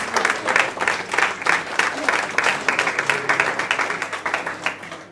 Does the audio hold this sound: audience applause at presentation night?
yes